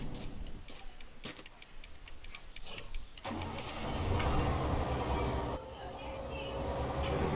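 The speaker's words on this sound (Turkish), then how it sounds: "Çalıştırayım şu arabayı." A diesel bus in The Long Drive cranks with a rapid ticking starter for a few seconds, then catches and settles into a loud, rough idle, with no voices.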